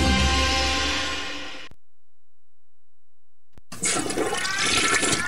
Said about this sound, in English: flushed his toys down the toilet and now it's broke